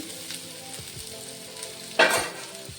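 Bitter gourd stir-frying in a pan gives a steady close sizzle with faint scraping, and a louder burst of hiss near the end as the pieces are turned.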